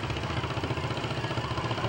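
An antique tractor engine chugs at a steady idle-like rhythm in a street parade with the Washington County Antique Tractor Club, a continuous mid-low mechanical rumble heard at moderate distance.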